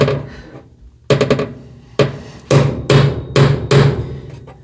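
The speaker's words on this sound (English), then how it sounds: "whack the end of it with the hammers" A hammer strikes metal six times in sharp, ringing blows on a 1969 truck, close and loud, with short uneven pauses between hits.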